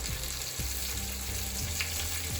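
Green chilies frying in a little oil for a tadka, a steady close sizzle with a few soft knocks or stirs over the constant crackle.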